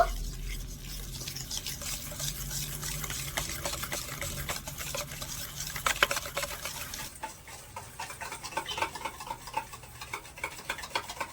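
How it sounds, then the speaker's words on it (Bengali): Powdered sugar is worked into ghee for biscuit dough, a close, continuous scraping and stirring with quick rhythmic ticks of the spoon against the bowl. "এবারে চিনি আর ঘিটা ভালো করে নেড়ে ছেড়ে মিশিয়ে নেব"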